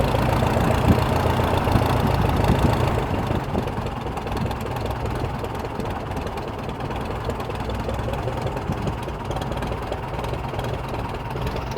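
A forgotten 1946 airplane's engine runs after starting, a loud close rumbling chug with a knocking, uneven idle that is heaviest in the first few seconds and then settles into a steady, slightly lighter drone.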